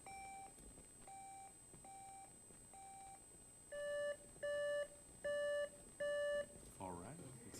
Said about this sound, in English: Can we check the buzzers?